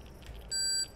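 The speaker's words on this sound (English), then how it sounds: "It's beeping faster." A planted explosive device in the space survival game Empyrion Galactic Survival gives one short, high electronic beep over a quiet background.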